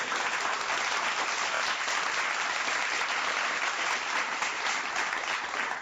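A large audience gives dense, continuous applause that holds steady and loud throughout, a wash of many hands with no pauses.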